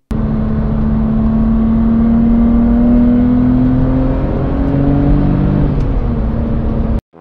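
A Porsche engine runs loud and steady for about seven seconds, its pitch climbing and shifting through revs with overlapping harmonic tones, alone with no talking, then cutting off abruptly at the end.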